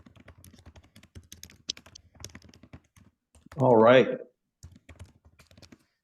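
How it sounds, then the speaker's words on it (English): Rapid typing on a computer keyboard comes through an open microphone on a video call, a steady patter of soft clicks under brief speech. "Somebody's off mute and I'm hearing they're typing"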